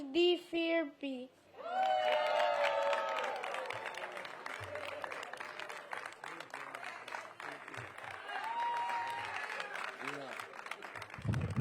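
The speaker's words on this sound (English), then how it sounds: "Give Eddie another round of applause." Applause from the audience at a school groundbreaking ceremony starts after a brief spoken voice and carries on as sustained clapping and cheering, with children's shouts and calls mixed in.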